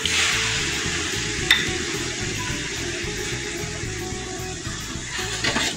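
Chopped tomato goes into a hot pan of fried onion and red lentils (masoor dal), giving a soft, steady sizzle with a brief splash early on; quiet and close.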